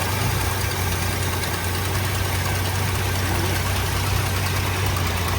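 A 1965 Ford Falcon engine with a freshly cleaned and assembled FoMoCo single-barrel carburetor idles on choke while warming up, running as a steady, close rumble with a faint knocking pulse and no pauses.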